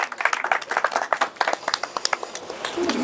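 Applause and clapping from an audience at a Hindi poetry gathering (kavi sammelan), greeting the poet Kumar Vikas; a crowd of hands claps in a dense, uneven patter for about three seconds, fairly close and steady.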